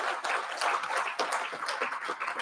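An audience claps and applauds at a plenary session on multisectoral action, a steady dense patter of hand claps sustained throughout at moderate volume, filling the room without voices.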